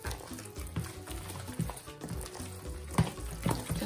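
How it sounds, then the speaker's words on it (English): Warm water is stirred into mbika (ground pumpkin seed) batter for a liboke dish, making a steady close wet sloshing and squelching of thick batter in a bowl. "Let me give this a good mix."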